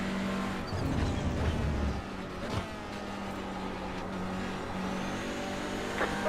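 GT4 and TCR race cars drive in a multiclass sim racing game, with a steady engine drone and a car rushing past early on. Faint shifts and road noise continue underneath.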